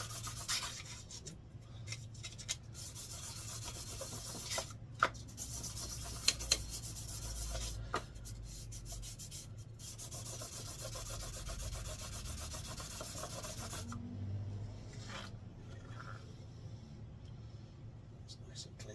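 Sandpaper rubbing across the mating surface of a Mikuni 34 carburetor from a Yamaha Virago 535, a steady close-up rasping scrape with a low hum underneath and brief clicks throughout.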